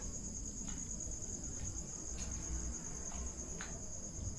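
Insects chirping at night in a public cemetery, a constant high shrill cricket trill that runs unbroken over a low background rumble, with no talk.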